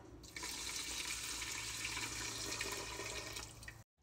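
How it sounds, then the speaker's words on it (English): Liquid pours onto washed rice in a Ninja Foodi pressure cooker, a steady splashing stream running for several seconds before stopping abruptly. "And then to this, I'm adding my 3 cups of liquid."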